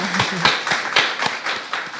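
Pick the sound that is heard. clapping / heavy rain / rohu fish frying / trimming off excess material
clapping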